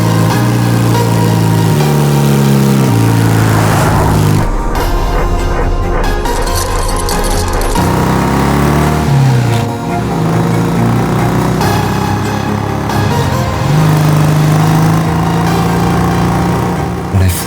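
A motorbike engine rumbles loud and near, idling with a deep uneven throb, then revving and settling back several times.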